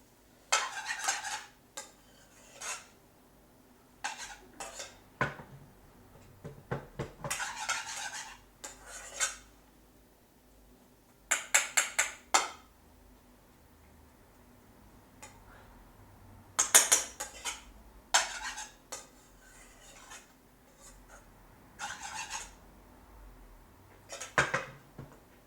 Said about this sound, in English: Mix the lamb, the rice, everything in.